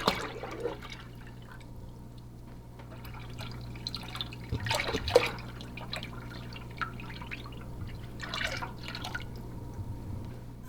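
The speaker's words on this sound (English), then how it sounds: "And then we are going to be adding our milk." Milk is poured into a pot for hot chocolate, giving a soft, intermittent splashing and dripping, with a few louder splashes over a steady low hum.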